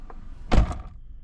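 Front driver door of a 2017 Ford Focus shutting with a single solid thunk, heard up close and alone.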